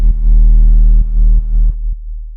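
A UK garage bass from a Serum preset plays alone, loud and deep, as a short phrase of four or five sustained low notes with clear pitch steps, ending in a quieter low tail.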